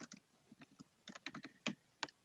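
Notes being typed on a computer keyboard during an online class session: a quiet, irregular run of soft key clicks with short pauses, a few louder taps near the end, no talking.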